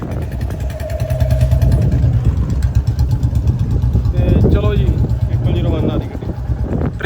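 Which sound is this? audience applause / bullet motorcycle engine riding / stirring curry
bullet motorcycle engine riding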